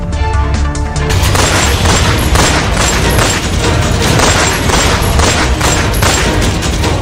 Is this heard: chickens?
no